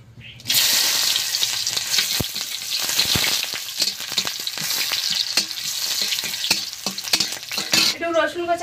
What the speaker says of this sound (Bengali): কড়ার তেলটা গরম হয়ে গিয়েছে, এবার শুকনো লঙ্কা আর পেঁয়াজ কচা দিয়ে দেবো।